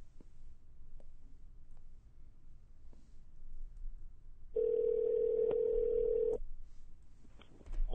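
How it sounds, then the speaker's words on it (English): A telephone line placing a call gives a steady tone lasting about two seconds, in a quiet room with faint clicks before and after. "let's go ahead and give him a call and see if we can bring him into the show"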